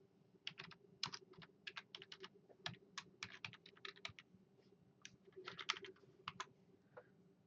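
Rapid, irregular clicks of typing on a computer keyboard, individual keystrokes arriving in quick bursts with short pauses between them, close and fairly quiet.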